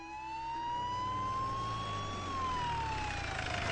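A police van siren wails in a single long tone that slowly rises and then falls, fairly faint and distant, with engine rumble beneath and no voices.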